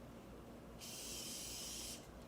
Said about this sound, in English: Spray it on the paper towel,